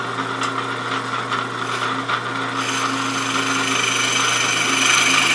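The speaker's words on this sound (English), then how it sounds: "Then I'm going to come in with a skew." A wood lathe spins a roughed-out bowl blank while a skew chisel cuts, giving a continuous raspy scraping hiss that grows louder and brighter as the cut deepens.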